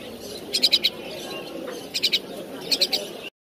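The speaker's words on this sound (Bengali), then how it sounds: "এগুলো ডাহুক আর এগুলো শালিক" Caged waterhens and mynas at a bird market in Mirpur, with three short bursts of bright chirping calls spaced apart over a steady murmur of background market noise.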